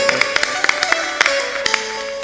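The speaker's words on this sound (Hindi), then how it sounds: "ताली जोर से बजाया करो।" A crowd clapping hands at a devotional religious gathering, sharp claps landing irregularly over a steady hum of voices and background noise.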